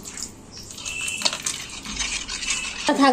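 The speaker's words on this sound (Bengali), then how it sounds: "কর্নফ্লাওয়ারটা গুলে নিচ্ছি।" A spoon stirs cornflour into a slurry, clinking and scraping against a bowl in quick close strokes.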